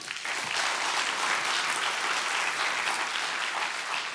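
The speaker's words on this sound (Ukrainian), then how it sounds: "Ваші оплески, друзі" Applause from a comedy show audience rises quickly and holds as a dense, even roar of clapping, loud and continuous for several seconds with no voices above it.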